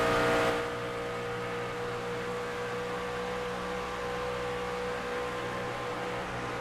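Race truck engine running nearly wide open at Charlotte Motor Speedway, a steady, dense mechanical drone with a brief louder swell at the start, then constant and unbroken.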